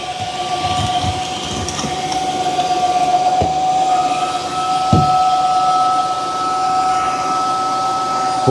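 A Tineco S9 Artist Pro cordless vacuum runs in auto mode, a loud steady motor whine with a sustained tone that shifts as suction ramps up, over rushing airflow and a few bumps along the floor.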